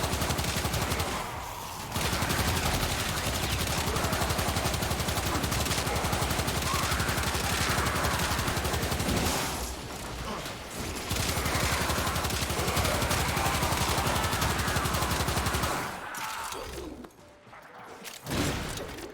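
Scourge Prime gun staff firing in Warframe, a dense, near-continuous barrage of rapid shots with a few brief breaks and a drop-off near the end, loud and without speech.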